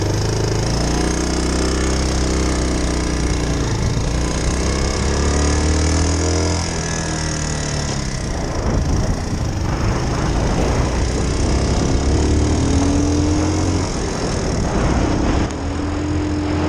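A 2001 Suzuki Savage motorcycle engine runs steadily in neutral, a loud, continuous low thrum with a rough mechanical clatter on top, close by and with no voices.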